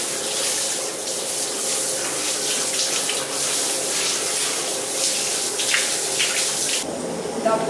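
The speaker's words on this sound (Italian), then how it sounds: "Dopo la doccia rivitalizzante invito Birna ad entrare nel bagno termale." Water runs steadily from a shower at an Abano thermal spa, a continuous hiss and splash with slight shifts in flow, cutting off abruptly near the end.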